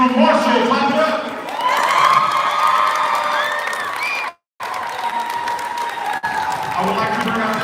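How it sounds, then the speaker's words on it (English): A crowd claps and cheers loudly for the champions of a middle school girls' basketball championship, with whoops and shouting voices over the applause. The sound cuts out briefly before the cheering resumes. "Clap it up."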